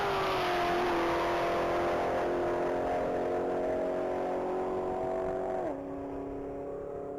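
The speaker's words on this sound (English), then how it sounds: "coming down the track is vehicle number 8169" An orange 2010 Chevrolet Camaro SS roars down a mile-long top-speed racing track, its engine a loud sustained drone climbing slowly in pitch, then dropping sharply near the end as it eases off.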